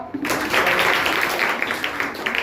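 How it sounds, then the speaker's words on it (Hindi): Sustained applause from a school prize-distribution audience, dense steady clapping filling the space at close range for the whole stretch, with no talk over it. "ताली बजाओ।"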